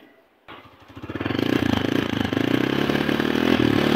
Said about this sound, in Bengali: তো গাড়িটা স্টার্ট দিই। সাউন্ড কেমন আছে শোনা হোক।